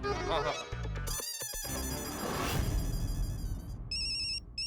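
A phone rings through a speaker with a repeating electronic ring pattern, mixed with background noise and some voices.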